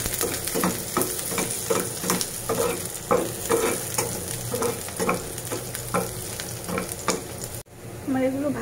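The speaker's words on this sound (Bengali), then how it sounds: "এখন আমি ডালের জন্য এই যে পেঁয়াজ রসুনগুলো ভালোভাবে ভেজে নিব।" Onion and garlic fry in hot oil for a dal tempering, sizzling loudly and continuously up close while a spatula stirs in repeated scraping strokes, with a brief break near the end.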